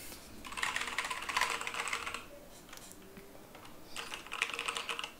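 Two quick bursts of typing on a TC235 KANE Warrior mechanical keyboard with brown switches, close and crisp clacking, separated by a short pause.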